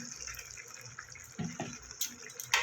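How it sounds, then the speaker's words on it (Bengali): Small amount of water poured into a pot of cucumber, potato and lentil-dumpling curry, a soft brief splash and trickle against faint kitchen background. "এবার সামান্য একটু জল দেবো, বড়িটা একটু যাতে গলে যায় ভালো করে।"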